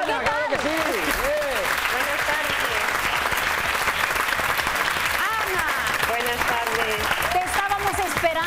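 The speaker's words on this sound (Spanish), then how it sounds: "Un aplauso para Ana" A studio audience at a Spanish evening television magazine show applauds steadily and fairly loudly, with a host's voice talking over the clapping throughout.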